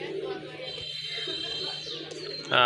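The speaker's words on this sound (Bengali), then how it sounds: "এটা কিন্তু আবার ডাকার চেষ্টা করতেছে" A pigeon coos softly among other pigeons kept for sale, its low call sitting under steady background chatter and ambient noise for a couple of seconds.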